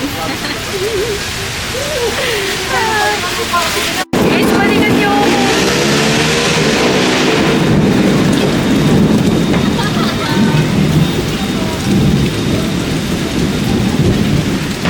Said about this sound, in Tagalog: Inabutan na kami ng ulan.